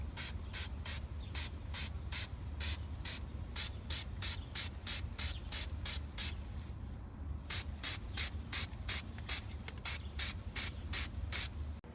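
Rust-Oleum color coat sprayed from an aerosol can onto aluminum, heard as a long run of short, loud, close hissing bursts in a steady rhythm, with one brief pause partway through.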